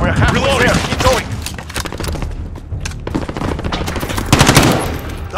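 Sustained close automatic gunfire in Call of Duty: Modern Warfare, a dense, nonstop rattle of shots with thuds and booms mixed in and radio-style voices talking over the battle.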